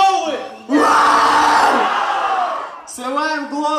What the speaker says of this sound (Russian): Ну-ка попробуйте погромче, громче покричать.